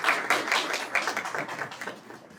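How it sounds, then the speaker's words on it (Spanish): An audience at the Universidad de Guanajuato applauds to welcome a speaker, giving a dense, steady stretch of clapping that carries on through the whole moment. "les pido un fuerte aplauso"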